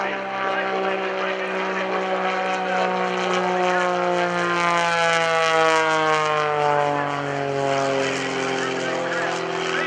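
A propeller aerobatic plane with a big IO-360 engine performs at the 2012 New Garden Airshow, its droning engine pitch sliding steadily down in long sweeping tones as it passes, loud and continuous.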